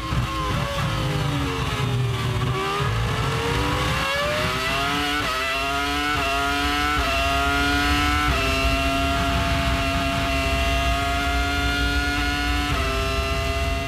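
Ferrari Formula One cars from the 2002 season roar past in a sustained, loud engine scream, pitch rising and shifting through gears as the race runs on, with steady dense racing noise throughout.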